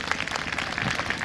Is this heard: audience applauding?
yes